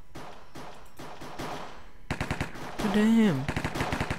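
Rapid gunfire rattles in Minecraft's Cops and Crims mode, a close, dense burst of shots after some quieter game sounds, with a voice briefly speaking over it.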